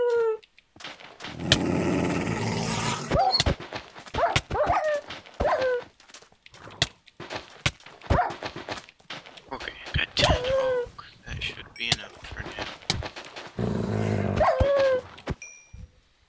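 A wolf in the video game Minecraft whimpers and growls in repeated short bursts close up, intermittent yelps and snarls with quiet gaps between, while a person talks over it.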